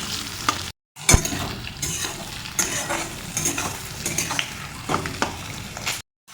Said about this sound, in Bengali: এগুলোকে খুব ভালো করে নাড়িয়ে চাড়িয়ে হালকা করে ব্রাউন করে নেব।